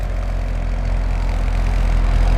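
A 2011 Chevrolet Corvette Z06 Carbon Limited Edition idles with its exhaust flaps closed, giving a steady, deep, even rumble that holds at a constant level throughout.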